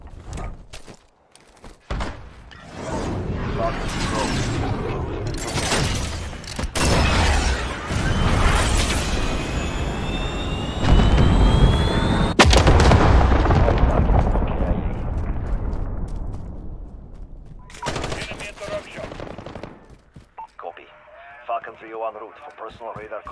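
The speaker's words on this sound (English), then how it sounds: "Cruise missile ready." A cruise missile strike in Call of Duty Modern Warfare arrives as a string of loud, heavy explosions and booming blasts with a rising whine, then fades into quieter radio-like chatter; voices talk in places.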